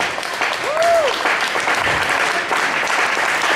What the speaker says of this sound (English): Y'all put your hands together one more time for the four.